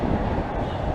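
Loud, steady low rumble and roar of a train arriving at Union Station, Toronto, close by, a continuous heavy mechanical drone filling the moment.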